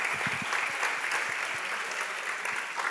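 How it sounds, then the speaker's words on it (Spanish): Audience applause at an end-of-year music school concert, a steady dense wash of many hands clapping in a hall, moderately distant and continuous throughout. "Fuerte aplauso para Mariano."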